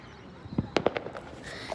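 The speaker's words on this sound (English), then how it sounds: "This area has a lot of fireworks in their base." Fireworks bursting over a city at night, a handful of sharp cracks and pops in quick succession, moderately distant and fairly faint, with a soft rumble trailing after.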